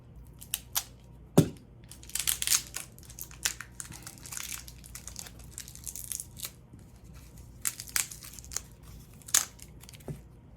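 A sealed package of thermal paste being torn open at a laptop repair bench, with close crinkling and ripping of plastic in irregular bursts and several sharp tears, no talking.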